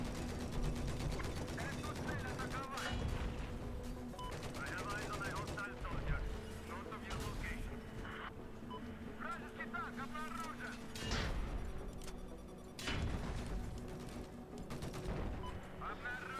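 Video game battle gunfire crackles in bursts and rapid volleys, with heavy booms from tanks, mixed with a player talking throughout.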